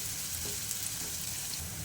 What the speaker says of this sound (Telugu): ఇప్పుడు ఇందులో మనం సన్నగా చాప్ చేసి పెట్టుకున్న ఉల్లిగడ్డను కూడా యాడ్ చేద్దాం. వీటన్నిటిని ఒకసారి బాగా కలుపుకోవాలండి.